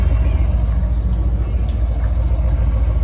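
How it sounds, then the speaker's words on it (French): A Mercedes-AMG GLE 63 S in sport plus mode idles close by, its exhaust giving a steady, deep, loud rumble with no pauses. "Je ne sais pas si vous entendez les bruits des échappements."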